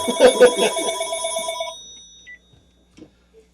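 A telephone rings during a live charity telethon for a coat drive, a couple of loud bright trills up front that fade out, followed by a few faint clicks in a quiet room.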